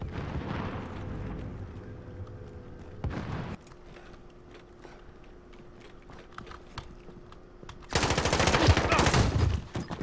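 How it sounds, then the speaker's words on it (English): A grenade explodes in the video game Call of Duty Warzone as a loud, broad blast near the end, after an earlier sharp burst and quieter ambience of gunfire and movement. "Oh, that was a grenade. That's a grenade."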